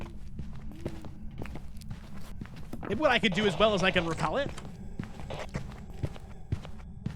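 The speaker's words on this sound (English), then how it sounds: "Those footstep sounds you hear when you sprint," Player character footsteps while sprinting in the ghost-hunting video game Phasmophobia, a steady run of quick, soft thuds throughout, with someone talking over them partway through.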